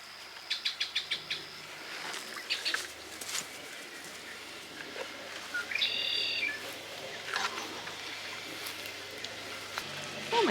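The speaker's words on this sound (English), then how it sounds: "there's a couple more hens out there fighting with each other" Sharp, rapid clucks and squawks from hens tussling at close range, coming in bursts over a background of softer chatter.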